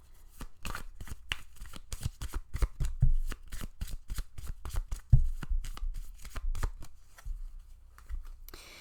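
Oracle cards are shuffled for a pick-a-card reading with a rapid, close train of crisp flicks and riffles that keeps going for several seconds, uneven in rhythm and otherwise quiet.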